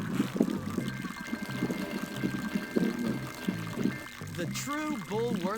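A character urinating in the video game Bully, a continuous close pouring stream of liquid with a person talking over it throughout.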